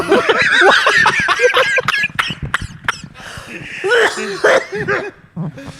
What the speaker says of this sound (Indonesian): Ketawa terlalu gembira batuk. Batuk.